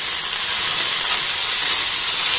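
Paneer pieces stirred and fried in a pan for a wheat-flour snack, with a loud, continuous hissing sizzle up close, steady throughout and no voice.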